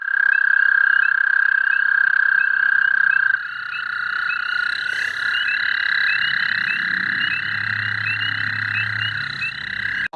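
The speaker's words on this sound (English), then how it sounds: "One of the American toads that was calling" A male American toad gives a long, steady high-pitched musical trill that shifts slightly partway through, with other toads trilling faintly in the background.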